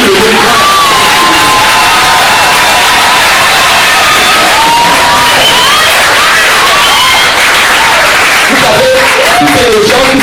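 A church congregation cheers and acclaims in a loud, continuous roar of voices, whoops and shouts with scattered clapping, close and crowded throughout with no single voice standing out.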